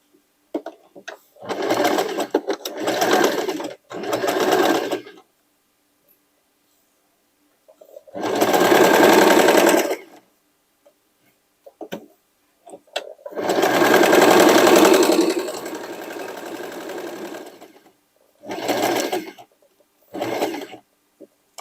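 Sewing machine stitching sweatshirt fabric pieces for a dress, running in several bursts of a few seconds each, with one long steady run in the middle and quiet pauses between. It sounds close and clear with no talk.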